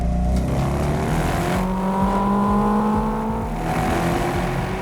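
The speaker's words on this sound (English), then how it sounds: "When Blazer storms off, you can hear the cars as he passes them" Several cars race past one after another in a fog-shrouded fantasy game setting, their engine tones rising and falling as each sweeps by; a steady, continuous roar with no voices.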